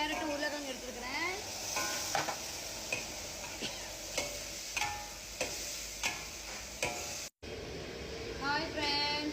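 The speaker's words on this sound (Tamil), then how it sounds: "பார்த்தீங்கன்னா எல்லாம் வதக்கிடுச்சு" Tomatoes, carrots and potatoes sauté in a pan with a soft sizzle, punctuated by regular scraping stirs of a spoon against the pan, fairly quiet and close, with a voice speaking over it.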